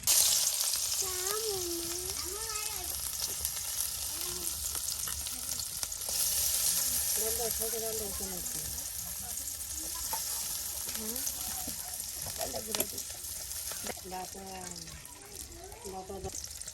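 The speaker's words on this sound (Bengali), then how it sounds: "পেঁয়াজ রসুন আর জিরা মরিচ একসাথে দিয়ে কিন্তু একটা তেলে এখন ভেজে নেওয়া হচ্ছে।" Onion, garlic, cumin and chili fry together in hot oil with a steady, close hiss and sizzle, while voices talk over it throughout.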